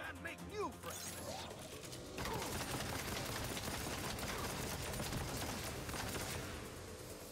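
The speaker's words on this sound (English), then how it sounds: "I'm just shooting him in the feet" Sustained rapid gunfire in the Saints Row video game as an enemy is shot, dense mechanical clatter continuing steadily, with game voices briefly heard near the start.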